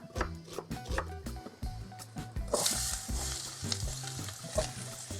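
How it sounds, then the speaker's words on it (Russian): Diced onions sizzle and crackle in hot vegetable oil in a pan, with scraping stirring sounds throughout, close and steady. "Обжариваю лук до золотистого цвета."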